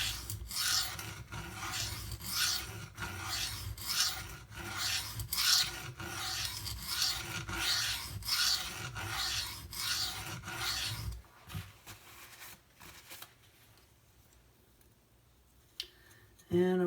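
A Spyderco Para 3 knife being sharpened in rhythmic back-and-forth strokes on a stone, about a dozen close, raspy swipes at a steady pace, then a quiet stretch with a few faint clicks.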